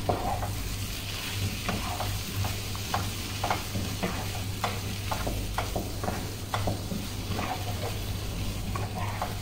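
Pork frying in a pan as ground coriander and black pepper are stirred in: a steady low sizzle under repeated short scraping and tapping strokes of a spoon, close and continuous, with no talking.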